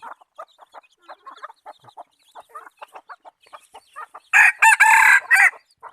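A rooster crows loudly and close, one long ringing crow near the end after a run of soft clucks and faint scattered sounds.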